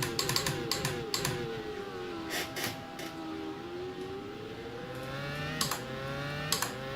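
Quick bursts of computer keyboard typing click at irregular moments over the steady whine and drone of an F1 2010 car engine in an rFactor racing sim, keys close and fairly loud.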